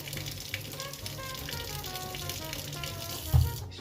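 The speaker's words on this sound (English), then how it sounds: "These church sinks always take a while to heat up." Hot water running steadily from a church sink tap, a continuous hissing gush with a brief louder splash near the end.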